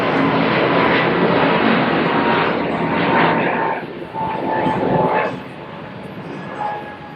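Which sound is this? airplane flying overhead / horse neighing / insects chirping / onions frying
airplane flying overhead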